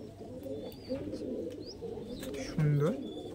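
Giribaj pigeons coo softly in a loft, with a louder, nearer coo rising near the end and faint chirps and bird calls scattered around it, under quiet background talk.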